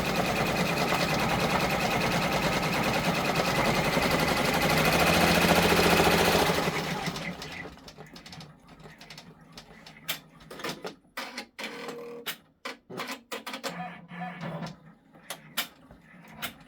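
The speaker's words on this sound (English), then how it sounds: "So we're just going to stitch this out. It's a minute of stitching." A Brother 10-needle multi-needle embroidery machine stitches a design, first a loud steady mechanical whir for several seconds, then stopping and giving way to scattered clunks, clicks and rattling mechanism sounds nearby.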